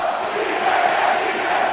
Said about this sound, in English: this place is loud as Sebastian, Miami's mascot, is getting the crowd riled up